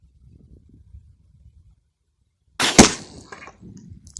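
A Huğlu 301A break-barrel air rifle fires a single shot at a perfume bottle about 40 m away, one sharp crack followed by a short fading tail after a quiet stretch.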